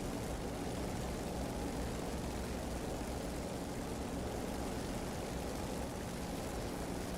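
A WWII warbird propeller aircraft engine in the DCS flight simulator drones steadily and loudly throughout, a dense unbroken rumble with no other sounds.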